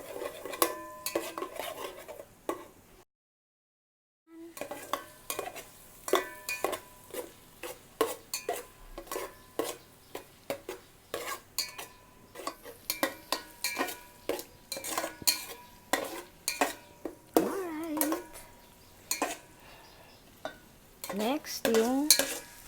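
Garlic and onions sautéing in butter in a pan, a soft steady sizzle broken by frequent clinking scrapes of a utensil stirring against the pan, close and fairly quiet, with a brief silent gap early on.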